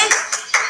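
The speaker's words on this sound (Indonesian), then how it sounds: "beri tepuk tangan untuk Sarah" Short bursts of applause for a student in an Indonesian classroom lesson, four quick clapping swells in under a second, moderately close, with voices faintly under them.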